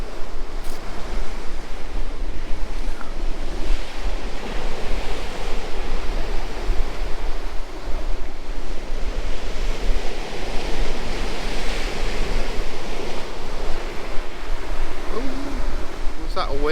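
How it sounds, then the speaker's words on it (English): Surf rolls and breaks on an East Coast UK beach at Spurn Road during beach casting, a constant wind-buffeted roar of waves with no clear individual crashes, loud and steady throughout. "Was that a wave? I think that was a wave."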